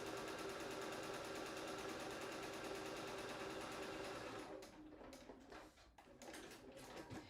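Domestic sewing machine stitching fabric, a steady fast whirring hum running alone for about four seconds, then breaking into short stop-start bursts with brief pauses between stitching runs.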